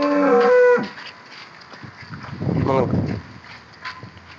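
A cow lets out a loud, close moo at the start at a dairy, then a second lower, rougher moo follows a moment later amid faint background noise.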